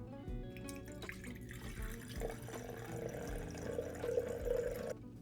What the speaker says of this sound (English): I'm going to add in about half a liter of water